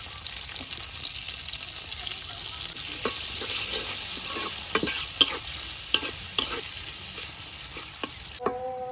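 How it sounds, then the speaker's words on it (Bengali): Chopped onion and garlic frying in hot oil in a kadai for a red amaranth greens dish, a steady crackling sizzle with sharp spatters and spoon scrapes, close and continuous. "আর দিয়ে দিতেছি পেঁয়াজ কুচি।"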